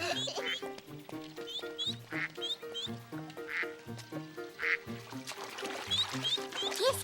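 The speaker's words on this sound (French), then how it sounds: "Regarde, des canards." Ducks quacking in a Caillou cartoon scene of a family picnic by water, a busy repeated chorus of close quacks with cheerful music underneath.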